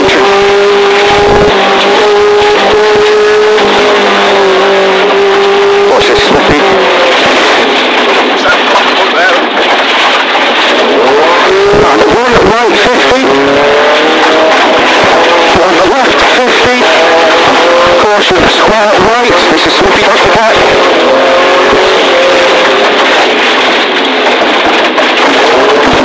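Rally car at full race pace on a closed stage of the Easter Rally, engine loud and close throughout as it revs and accelerates, with tyre squeal and skidding and a co-driver's voice calling over the roar.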